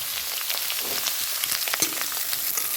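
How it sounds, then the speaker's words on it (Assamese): Eggplant, potato and kohlrabi fry with onion in a pan, giving a steady, dense sizzle with scattered crackles and pops that stays loud and even throughout, with no talking. "অলপমান ভাজি ল'ম"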